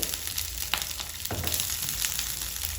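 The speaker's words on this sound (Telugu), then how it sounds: "మనం ఇందులోనే అల్లం ఎల్లిగడ్డ పేస్ట్ వేద్దాము" Ginger garlic paste sizzles and fries in a pan of hot oil for egg pulusu, a steady close crackling hiss with a few sharper spatters and a stir partway through, no talking.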